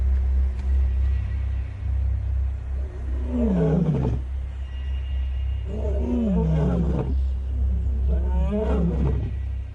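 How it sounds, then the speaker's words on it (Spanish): Large wild male lions near a river in the African wild: three deep, resonant roars at spaced intervals, each trailing into grunting pulses, heard over a constant low rumble. "El rugido de un león puede ser más fuerte que una taladradora"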